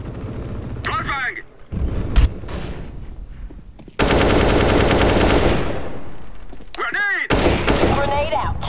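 Counter-Strike match on the Inferno map, with a flashbang grenade going off amid loud sustained automatic gunfire that fills several seconds, while players' voices break in between bursts.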